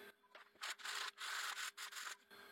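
Hand sanding on wood for a DIY chess set: quiet, rhythmic rasping strokes, about five back-and-forth passes, close by with brief pauses between.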